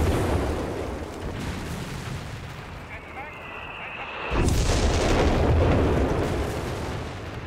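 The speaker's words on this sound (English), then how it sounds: "this time the barrage on the center of the map" Artillery barrage in the strategy game Company of Heroes 3 shelling the center of a multiplayer map: rumbling booms and bursts that swell louder midway, with faint background game sounds throughout.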